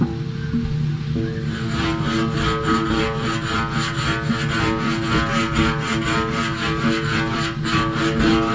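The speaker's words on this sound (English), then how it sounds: "I'm going to take my pre-buff cleaner again and I'm going to clean that up and scrape it" Pre-buff cleaner being scraped across a semi truck tire, a continuous close rasping rub with a rapid, even back-and-forth rhythm throughout.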